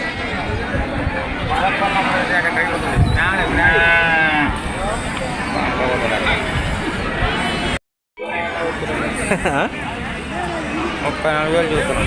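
Sheep and lambs bleat repeatedly over a busy crowd at a weekly open-air sheep market in Kunta, voices chattering all around, with a brief silent gap midway.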